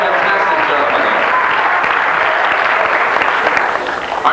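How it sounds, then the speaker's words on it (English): A concert audience at a 1985 revue gives a big round of applause for the music director, a dense and loud wash of clapping that holds steady throughout with no distinct voices. "Let's have a big round of applause for him."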